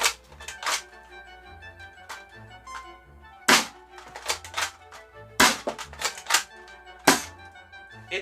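Dart Zone Jurassic Pro foam dart blaster being primed and fired, with sharp plastic clacks and thumps from the priming handle and magazine, then several loud, close, snappy shots in irregular clusters.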